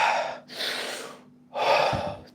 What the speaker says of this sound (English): breathe that 15-second recovery breath in, count it out yourself